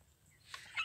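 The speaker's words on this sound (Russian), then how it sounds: "Курочка. Курочка. Ну какая курочка." A short, soft cluck from a broiler hen, faint and close, with a brief higher chirp at the end; no talking.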